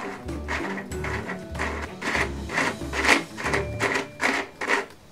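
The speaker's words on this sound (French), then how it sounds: "Et maintenant, je vais utiliser mon tournevis." A toy electric screwdriver from a children's workshop set whirs in short, regular bursts with a rhythmic mechanical buzz and clicks, repeating steadily at close range without talk.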